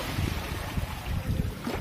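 Waves slap against a pier at a bridge in San Policarpo, Eastern Samar, at high tide, a close, low, churning wash with irregular surges under steady wind noise.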